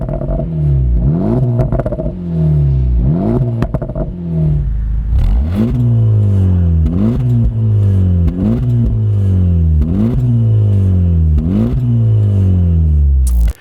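A 2024 Acura Integra Type S, with a baffle removed from its exhaust, revs repeatedly in rising bursts, loud and close, each rev climbing then dropping back in a steady rhythm.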